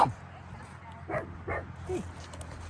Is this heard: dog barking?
yes